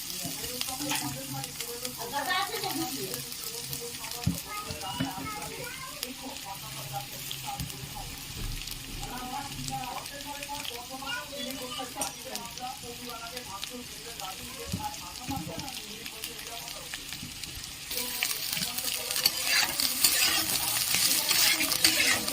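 Long slices of carrot fry in hot ghee for mixed fried rice, a steady sizzle under a spatula stirring and scraping the pan, with a spell of running tap water and some low talk in the background.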